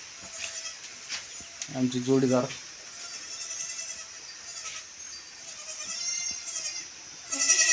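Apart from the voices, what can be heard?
goats bleating in goat shed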